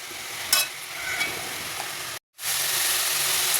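Tomatoes fry and sizzle in a pan while being stirred, a constant close hiss with a few soft scraping strokes, broken by a brief moment of silence before the sizzle resumes.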